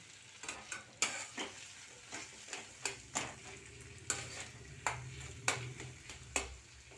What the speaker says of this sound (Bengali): এবার এই টমেটো আর পেঁয়াজটা যে ভেজে রেখেছিলাম সেটার সাথে ভালো করে মিশিয়ে নিচ্ছি